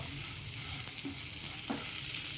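Chicken sukka sizzling gently in a pan over a low flame, a steady close frying hiss with a couple of brief stirring clinks, no talking.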